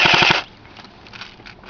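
A CYMA 1928 Chicago Typewriter airsoft gun, made by Cybergun, fires BBs in one short, loud, rapid burst of roughly half a second, followed by faint mechanical ticks and quiet room noise.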